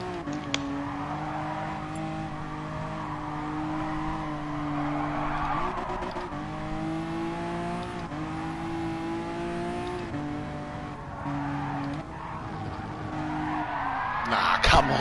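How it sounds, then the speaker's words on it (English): A race car in a video game roars out of the pit lane, engine droning with shifting pitch and tire noise before a crash into the wall, with a player talking over it. "When the car exits the pit, it crashes in the wall."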